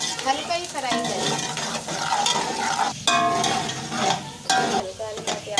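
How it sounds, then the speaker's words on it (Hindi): Onions frying lightly in hot oil for kadhi pakora, a steady close sizzle with stirring and occasional utensil clinks running through the clip. "प्याज को हल्का हल्का फ्राई कर लें, हल्का ही फ्राई करें"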